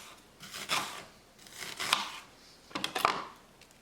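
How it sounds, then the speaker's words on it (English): A knife slicing through an onion into smaller pieces, three separate crisp cutting bursts spaced about a second apart, close and fairly quiet, with no talking. "I'll cut the onion into smaller pieces"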